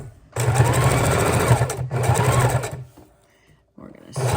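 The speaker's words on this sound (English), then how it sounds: "We've got the zigzag stitch on." A sewing machine runs a zigzag stitch through miniature journals in two long, loud whirring runs with a steady mechanical chatter, then pauses briefly before starting up again.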